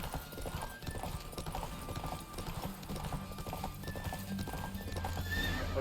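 Rapid hoofbeats of a galloping horse in The Witcher 3 video game pound steadily throughout, with an occasional whinny rising above the rhythm.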